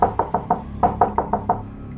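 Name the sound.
knocking from inside a wardrobe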